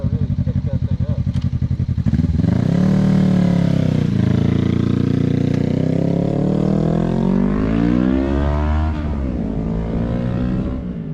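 A Suzuki GSX-R 250 motorcycle engine, revving up and down loudly and close by, with a steady harmonic drone that rises and falls through several throttle blips and no talk over it.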